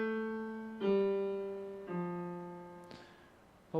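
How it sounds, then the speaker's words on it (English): Solo piano stepping down a major scale in slow, evenly spaced notes, each ringing and decaying before the next, played close and clean with no voices. "Going down the major scale would sound like this."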